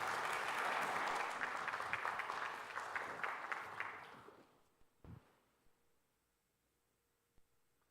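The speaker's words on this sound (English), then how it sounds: "please give an applause for Professor Warren" Audience applause at a cybersecurity symposium in Indonesia, a dense burst of clapping for the first four seconds that fades out, followed by a few isolated thumps and faint noises.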